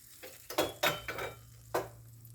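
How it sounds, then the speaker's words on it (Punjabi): Several short bursts of sizzling and crackling as hot tempering is poured over fresh green pea dal in a large bowl, separated by brief pauses with a faint low hum beneath. "ਹੁਣ ਉੱਤੇ ਲਾ ਦਾਂਗੇ ਆਪਾਂ ਤੜਕਾ"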